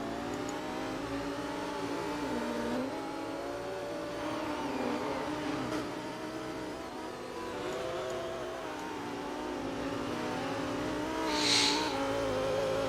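Sports race cars, among them a Lamborghini Huracan, run a small circuit at Utah's Salt Lake track, engines revving and shifting through gears in a long continuous stream, with a brief sharp squeal near the end.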